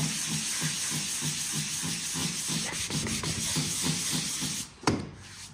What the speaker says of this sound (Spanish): Tenemos lija de 180, de grano 180, y veréis cómo al lijar